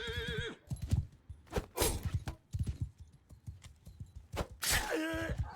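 A horse whinnies loudly as it goes down in battle in the Mount & Blade Bannerlord video game, high neighs at the start and end over rapid galloping hoofbeats and thuds, with no talk.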